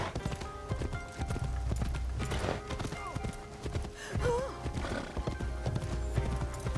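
Horse hooves clip-clop in a steady rhythm while riding in the video game Assassin's Creed Shadows, with a whinny partway through and game ambience beneath.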